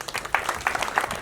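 Short burst of clapping from a crowd at a company customer event, sounding as a scattered patter of hands that is close and moderately loud and lasts only about a second.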